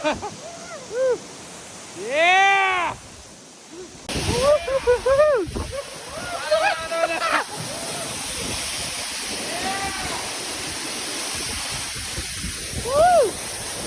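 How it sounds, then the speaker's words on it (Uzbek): Steady roar of the Paltau or Chukuraksu waterfall rushing nearby, a constant broadband wash running beneath excited voices, shouts and brief chatter throughout. "Qaranglar sharsharani dahshatli."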